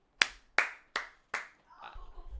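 Hands clap four times, crisp and close at an even, unhurried pace. Faint rustling and a low murmur follow.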